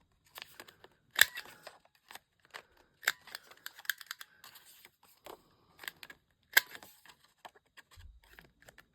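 Scissors trim and round off the corners of paper: small crisp snips and clicks, close and fairly quiet, scattered irregularly with brief pauses between them.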